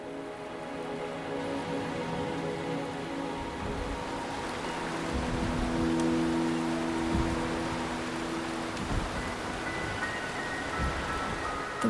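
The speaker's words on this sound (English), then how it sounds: "rain is subsiding, and the sky will soon clear" Rain falling in the video game Wuthering Waves, a steady close hiss of rain on surfaces with scattered drops and faint tonal hums underneath, no talk.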